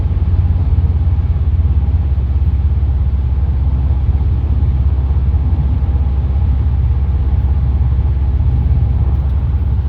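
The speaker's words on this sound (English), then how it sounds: "The car's driving very straight. And we're going about 80." A 2009 Chevy Impala SS cruising at about 80 mph, its steady, loud engine and road rumble droning continuously from inside the cabin with no breaks or pauses.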